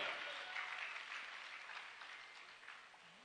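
An audience claps in a full round of applause that slowly tapers off, dense and fairly distant, with no voices over it.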